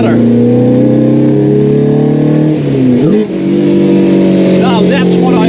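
A 1997 Lotus Elise with a swapped-in Honda K20A engine holds steady, loud revs with a brief dip partway through as it shifts, the note rising again under occasional talk from the cabin.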